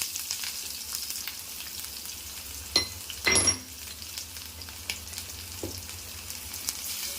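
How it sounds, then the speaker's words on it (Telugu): Chopped onions frying in a kadai for a drumstick and tomato curry: a quiet, steady sizzle with a couple of brief clinks and a short burst of stirring near the middle, heard close without talking. "ఇప్పుడు ఇందులో మనం కట్ చేసి పెట్టుకున్న ఆనియన్స్ వేసుకుందాం"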